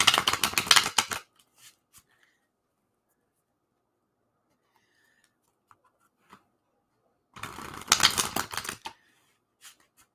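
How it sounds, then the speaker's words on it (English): A deck of playing cards is shuffled, with two dense bursts of riffling near the start and again later, separated by near-silence with a few faint taps. "got to get my cards all shuffled here"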